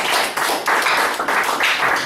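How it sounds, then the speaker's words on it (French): A small group claps for children in a rhythmic, repeated pattern, bursts of applause rising and falling, fairly close and with no talking. "Acclamation pour les enfants."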